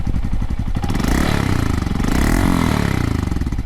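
Honda Monkey 125 motorcycle with a TB Parts exhaust and dB killer fitted, its engine loud and close with a steady putter that rises briefly in a light rev.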